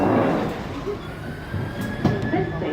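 A London Underground Northern Line train rumbles at Camden Town with a loud, low, continuous roar that eases slightly, with faint squealing and a few sharp clanks heard from inside the carriage.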